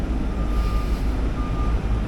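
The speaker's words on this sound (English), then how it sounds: "I hear a truck backing up," A truck backing up sounds a steady electronic reversing beep over a loud, continuous engine rumble close by, with no talking.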